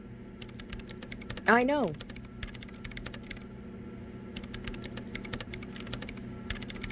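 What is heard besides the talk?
typing commands into a machine in the video game Disco Elysium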